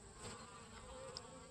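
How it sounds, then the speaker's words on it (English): Many honey bees drinking water from weedy seedling trays make a continuous, even drone of faint buzzing, with no talking. "there's gobs of bees getting water out of these"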